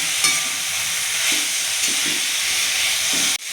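Green beans for a dry Maharashtrian bean stir-fry are tossed into a hot pan, with a steady loud sizzle and hiss under a few soft scraping stirs and a final clatter near the end.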